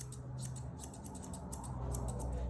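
Scissors snip repeatedly while trimming a pet's cheek fur during grooming, each crisp metallic cut sounding close, over a low steady hum in the background.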